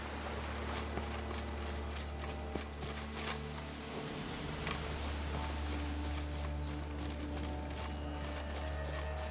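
The horse Roach's hooves clip-clopping in The Witcher 3, a steady rhythmic trot over a constant low game ambience, moderately close and without talk.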